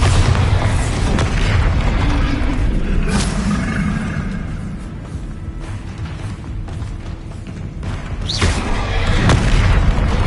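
The Bombarda explosion spell from the video game Hogwarts Legacy sets off deep booming blasts, one early and another near the end, over a dense rumbling wash of game effects.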